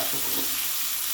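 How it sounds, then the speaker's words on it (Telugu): Mushrooms fry in hot ghee with a close, steady sizzle and crackle during a brief moment of cooking. "నెయ్యిలో అట్లా ఫ్రై చేసుకుంటున్నానండి కొంచెం"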